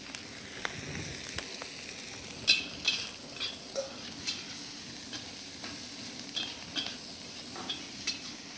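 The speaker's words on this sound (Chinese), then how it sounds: "再把虾米再来，拌下锅，再来把它炒一下" Dried shrimp stir-fried in a wok for a zongzi filling, a soft low sizzle under repeated scraping and clinking of a metal spatula against the pan.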